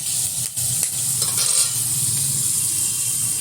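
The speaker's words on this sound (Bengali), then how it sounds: "তেলের মধ্যে দিয়ে দিলাম একটা শুকনো লঙ্কা, দিলাম একটা তেজপাতা, আর দিয়ে দেবো কিছুটা মেথি ফোড়ন।" Dried red chili, bay leaf and fenugreek seeds fry in hot oil for a Bengali lentil dish, giving a steady close sizzle with light stirring scrapes in the pan and no voices.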